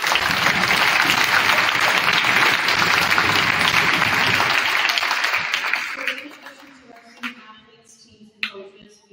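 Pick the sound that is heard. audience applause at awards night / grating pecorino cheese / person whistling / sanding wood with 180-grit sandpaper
audience applause at awards night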